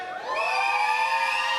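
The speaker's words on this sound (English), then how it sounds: "keep cheering and, screaming and yelling and giving all that round of applause" Audience at a murder mystery burlesque show in St. Louis cheering, whooping and yelling together, a loud sustained crowd roar that swells after a brief quieter start and holds steady.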